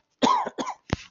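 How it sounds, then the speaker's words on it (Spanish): A person coughs twice in quick succession, close and fairly loud, followed by a short throat-clearing burst, during a class on concrete materials. "tengo un cachito de tos"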